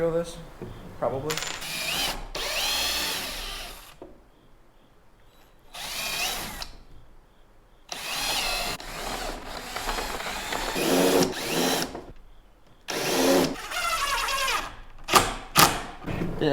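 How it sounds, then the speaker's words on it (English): A power drill pre-drills during an interior door installation, whirring in several short bursts separated by pauses, close and fairly loud, with ratcheting clicks and a person talking between bursts. "Should I pre-drill this? Probably."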